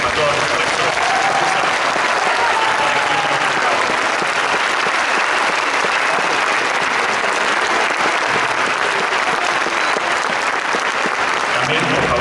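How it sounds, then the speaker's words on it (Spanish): Audience applause at a university engineering graduation ceremony: sustained, dense clapping from a large crowd, loud and continuous throughout. "les pido a todos los asistentes, brindemos un fuerte aplauso, reconocimiento a todos los profesores"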